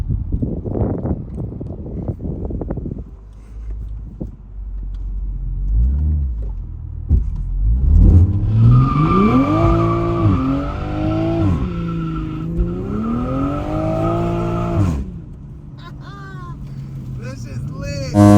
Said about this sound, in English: we could do a rolling burnout